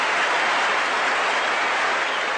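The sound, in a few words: crowd applauding a catch at a cricket test match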